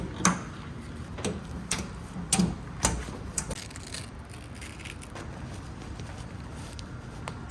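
Snaps on the rear top of a 1976 Ford Bronco Ranger 4x4 pop loose in a string of sharp, close clicks, bunched in the first few seconds, then a few scattered quieter ones.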